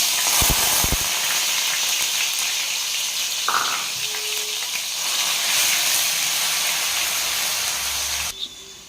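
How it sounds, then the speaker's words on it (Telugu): Mustard seeds and cumin crackle and sizzle in hot oil in a pan, a steady close hiss with a few sharp pops near the start and a brief clatter at the end. "ఆయిల్ కాగిన తర్వాత ఆవాలు, జీలకర్ర వేసుకోవాలన్నమాట."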